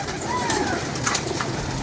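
Pigeons cooing continuously close by, a steady murmuring of soft coos over light background noise, with no talk.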